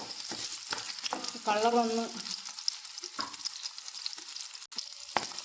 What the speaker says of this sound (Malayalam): ചുട്ടെടുക്കുന്നതിന് പകരം ഒന്ന് മൂപ്പിച്ചെടുത്തിട്ട് കുറച്ച് നേരം ഒന്ന് മൂപ്പിച്ചെടുക്കാം